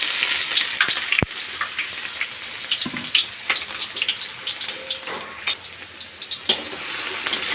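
Chopped onions fry in mustard oil, a moderate, crackly sizzle broken by frequent small pops and clicks and a few sharper knocks from a utensil, close by and without speech.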